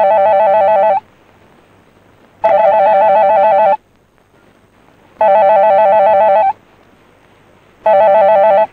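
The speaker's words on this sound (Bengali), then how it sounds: "এই নিন, রিং হচ্ছে।" A telephone rings in a Bangla film scene, four loud electronic ring bursts of about a second each separated by quiet gaps, near and clear with no talking.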